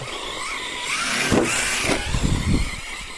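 A Hobao 8SC radio-controlled car on a 4S battery driving on a track, its electric motor whining steadily with a few louder bursts of acceleration and wheel noise, fairly close, no talking.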